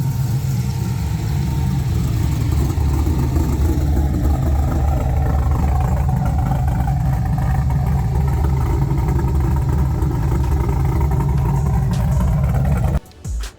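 A deep, rumbling LS3 V8 engine in a 1969 Chevrolet Camaro with a fully custom exhaust from the headers back idles steadily with a throaty exhaust note, holding a low burble throughout before cutting off abruptly near the end.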